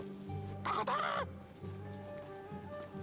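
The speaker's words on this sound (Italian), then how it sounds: "Oh no, è un pollo." A chicken in the video game Immortals Fenyx Rising gives a brief burst of clucking over steady game background music, with a short bright squawk-like flourish near the middle and quiet ambience before and after.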